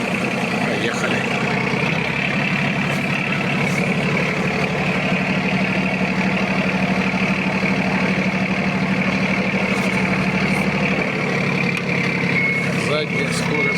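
A Yanmar F155 Japanese mini tractor, 15 hp, with its rotary tiller removed, drives along with its diesel engine running in a loud, steady, close drone throughout, with a voice over it.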